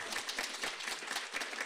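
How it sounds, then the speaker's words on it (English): An audience at a research event applauds the researchers with a dense, steady patter of many hands clapping for under two seconds, heard from a little distance. "let's clap for them one more time"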